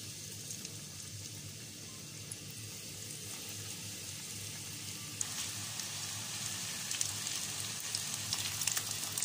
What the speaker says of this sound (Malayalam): ഓയിൽ വെച്ച് ചൂടായി കഴിയുമ്പോൾ സ്ലോ ഫയർ ആക്കി നമുക്കിത് ഓരോന്നും ഫ്രൈ ചെയ്തെടുക്കാം